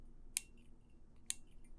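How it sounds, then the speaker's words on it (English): A metal lock pick clicks against the warding inside a Master Lock 410 lockout/tagout padlock, making two sharp, faint, isolated ticks about a second apart over a quiet background. "That's the pick clicking against the warding."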